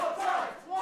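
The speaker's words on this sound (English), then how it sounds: "Listen to this crowd" A wrestling crowd at a live independent show roars and chants in a short, sustained swell of many voices, fairly loud and continuous.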